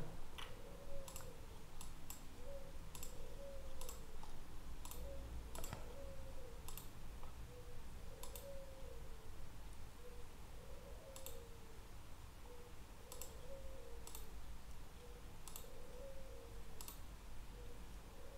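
Irregular clicks of typing on a computer keyboard during data entry into a MySQL database form, sparse keystrokes heard close over a steady low hum, with no talk.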